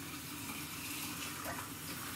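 Water pours steadily into a cooking pan with beef roulades, a soft continuous splashing rush without any talk.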